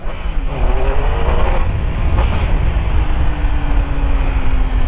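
A loud Triumph Tiger motorcycle engine roars close by, revving steadily with rising and falling pitch throughout.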